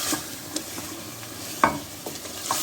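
Potatoes fry in a pan for a spinach and potato dish, with a soft continuous sizzle and a few brief scrapes and taps of the spatula, close by and without any talking.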